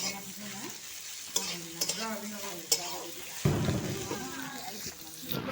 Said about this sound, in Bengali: প্রথমে করে তেল দিয়ে দিচ্ছে, তারপরে সামান্য কালি জিরা দিয়ে দিচ্ছে, তারপরে পেঁয়াজ কুচি দিয়ে দিচ্ছি